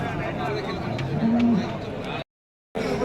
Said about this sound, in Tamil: நண்பர்களே இங்கே பாருங்கள் கம்மி விலையில் ஜெர்சி மாடு வந்துட்டு கண்ணு போட்டிருக்குங்க